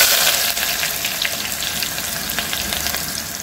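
Onion and curry leaves sautéing in hot oil in a pan, a dense, steady close sizzle throughout with faint stirring scrapes.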